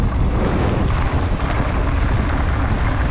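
Strong wind at a hilltop bike park roars and buffets continuously across the microphone, a loud, dense rush with no pauses.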